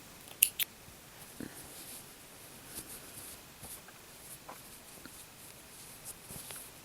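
Scissors trim a yarn end on a crocheted backpack, giving a quick, faint double snip near the start, followed by quiet rustling handling.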